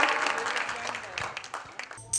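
An audience at a stage show in Alappuzha applauds to welcome a singer, a moderate wash of clapping that thins out over two seconds before a voice cuts in.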